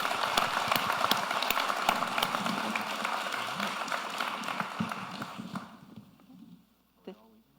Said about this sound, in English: how about a round of applause for the panel?